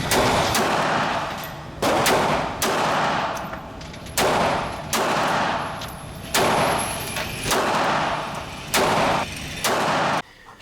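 Pistol shots from a Springfield Hellcat in .380 and a 9mm, roughly eight sharp, loud reports spaced about a second apart, each followed by a short echoing decay, outdoors on a range with no talking.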